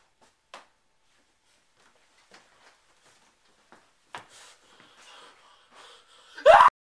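Quiet scattered small noises and faint breaths, building to one loud, sharp sneeze at the very end.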